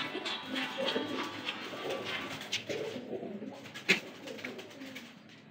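Pigeons coo softly and repeatedly in low, throaty murmurs, with faint flapping and rustling nearby.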